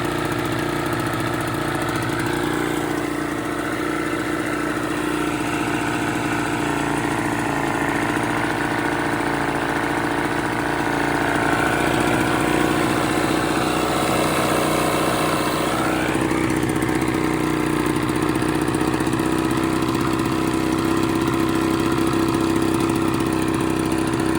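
A 1985 Johnson 15 hp outboard motor, revived after sitting for 26 years, runs steadily at idle with a continuous buzzing drone. The level holds even throughout, and no one speaks.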